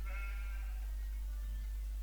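Sheep bleating in the Crazy Cattle 3D video game, a few harmonic bleats early on fading into a low steady game hum, no voices.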